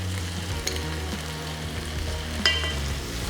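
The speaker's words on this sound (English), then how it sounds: "Mix it all up, stir fry in a bit." Beef brisket being stir-fried with tomato puree in a hot pan, a steady sizzle with a couple of sharper scraping clinks from stirring, close and unaccompanied by any voice.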